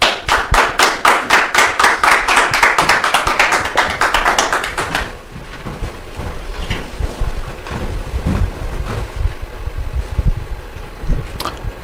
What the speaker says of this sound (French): Public, nous recevons ici maintenant Maï et notre très cher Junior sous vos applaudissements.